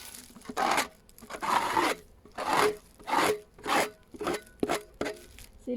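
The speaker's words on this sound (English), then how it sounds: "First of all, just give it a bit of a scrape off." A hand scraper rasps along a baseboard in repeated strokes, about eight rough scrapes with short pauses between them, close and fairly loud.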